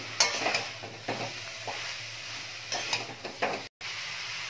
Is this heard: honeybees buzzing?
no